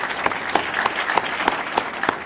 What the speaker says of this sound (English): One big round of applause for everyone,